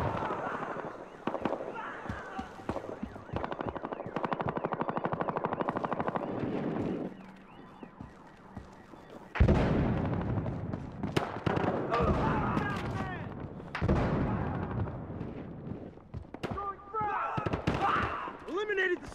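Rapid bursts of gunfire and explosive pops in the shooter Battlefield Hardline, loud and close in irregular clusters, with shouting voices between and over the shots.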